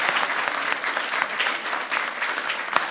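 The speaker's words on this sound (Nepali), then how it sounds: "जोरदार ताली" An audience at a comedy club show bursts into loud, sustained applause, dense clapping from a full crowd that stays steady for several seconds.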